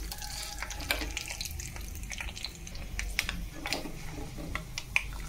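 Green chillies frying in a pan, a steady low sizzle with scattered soft crackles and pops running throughout, close by and alone.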